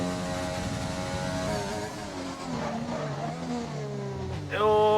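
A race car at Monaco in a racing game locks up its brakes, the droning engine notes sliding down in pitch as the tyres scrub, followed by a sharp rising rev near the end.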